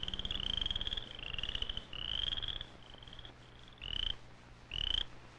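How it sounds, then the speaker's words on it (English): A cricket frog calls at a spring pond in a series of bursts of rapid clicking trills, loud and close, with short pauses between bouts and no voices. "It's a cricket frog,"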